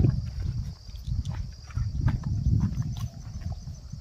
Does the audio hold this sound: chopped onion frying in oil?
no